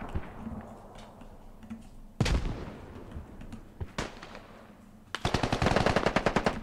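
Gunfire in a multiplayer shooter video game, including Mosin rifle shots: two sharp isolated shots, then a rapid burst of fire near the end, over a low background of game noise.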